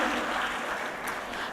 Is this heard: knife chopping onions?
no